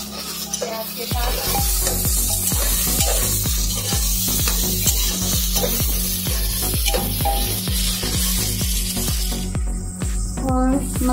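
Golden fried onion and tomato in a pan, with a loud, continuous close sizzle and a fast run of regular stirring scrapes throughout.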